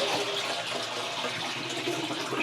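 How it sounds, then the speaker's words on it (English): Water being poured into a pool pump to prime it, a continuous rushing, splashing pour at close range with no talking. "Now open the pump, fill it with the water."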